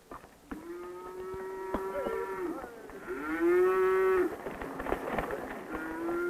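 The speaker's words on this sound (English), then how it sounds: "These cattle have just arrived from ranches in the west." Cattle newly arrived at a winter corn farm moo in long, deep, drawn-out calls, several overlapping in succession, fairly close, with faint clattering in the background.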